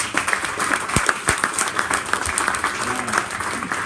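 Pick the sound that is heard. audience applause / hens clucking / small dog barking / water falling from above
audience applause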